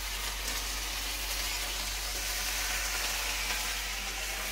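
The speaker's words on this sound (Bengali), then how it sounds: "এবার মাংসগুলো দিয়ে দিলাম, মশলা কষানো হয়ে গেছে" Goat meat frying in a pan of cooked-down spice masala gives a steady, even sizzle that holds at moderate loudness for the whole stretch, with no voices and no breaks.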